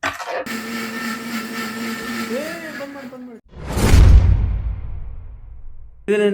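A kitchen mixer grinder in Bengaluru whirs loudly with a steady whine that shifts in pitch, then gives way to a rushing whoosh as it winds down, with voices in the background.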